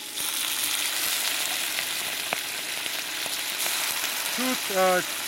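Onion browns in a frying pan for a pork and baby bok choy stir fry, giving a constant, dense sizzle near the mic with a few faint clicks. A short tonal squeak rises near the end.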